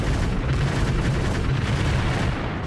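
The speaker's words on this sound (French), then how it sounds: "La préparation d'artillerie est impressionnante." Soviet artillery barrage ahead of the Berlin offensive under Marshal Zhukov, guns massed along the front: a dense, continuous low rumble of distant gunfire with no clear separate shots, steady throughout.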